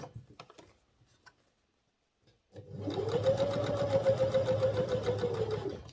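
A sewing machine runs a steady, fast stitching burst along a garment seam with a one-centimetre allowance, starting after a few soft handling clicks and near silence, then whirring evenly for several seconds up close.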